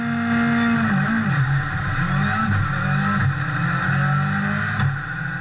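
A rally car engine at the Rali Vinho da Madeira 2020 roars continuously from close by, revving up and down through gear changes, with a rear differential problem reported.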